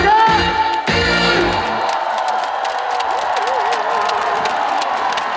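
A crowd at a cherry blossom music festival at Daecheongho cheers and applauds after a trot singer's performance, a loud sustained wash of clapping and whoops following the last musical notes, with voices calling out.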